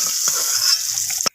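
Cut potatoes sizzle steadily in hot oil in a home kitchen, a continuous close frying hiss with a few soft clinks of a utensil stirring, ending abruptly.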